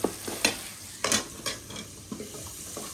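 Garlic chilli paste and whole garlic cloves frying in a pan while being stirred, with soft sizzling under a few close scraping strokes of a spatula, fading toward the end.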